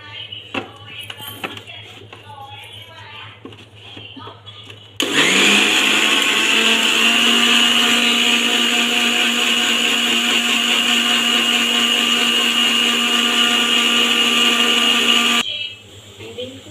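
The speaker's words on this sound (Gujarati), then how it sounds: "હવે આપણે એને મિક્સરની અંદર પીરવા માટે જઈ રહ્યા છે." A mixer grinder blends mint, coriander and water: a loud, steady whirring hum lasts about ten seconds without a break and then stops. Someone talks before the motor starts, and nobody speaks while it runs.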